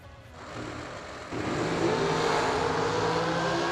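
Drag racing dragster accelerating, a distant engine note that swells in two steps into a sustained loud roar with a rising whine.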